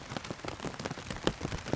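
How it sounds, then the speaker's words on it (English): Rain patters steadily on a forest campsite near Lake Vesuvius in Wayne National Forest, with scattered close drops tapping on surfaces and one sharper hit standing out, no voices present. "Oh yeah, it's raining again."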